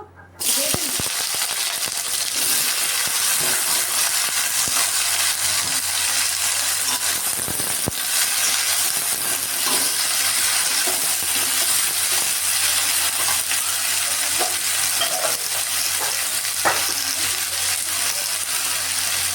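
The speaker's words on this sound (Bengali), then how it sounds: "তেলটা আমার গরম হয়ে গেছে। এখন এর মধ্যে আমি কাঁঠালগুলো ছেড়ে দেবো।" Jackfruit pieces frying in hot oil for a jackfruit and shrimp dish, a steady loud sizzle and hiss that runs throughout, with occasional small pops and stirring clatters.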